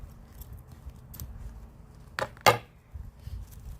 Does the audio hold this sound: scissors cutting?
yes